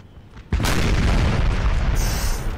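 Cannon firing canister shot in Napoleon: Total War, a Napoleonic battle with French and Russian forces: a sudden loud, deep boom that rolls into a sustained heavy rumble, with no talk over it.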